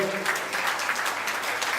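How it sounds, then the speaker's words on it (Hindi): Loud applause from an audience at a public gathering and mushaira in Byculla, dense rapid clapping from many people held at an even level for a couple of seconds. "मैं चाहता हूँ उनके लिए एक बार ज़ोरदार तालियों से दोस्तों"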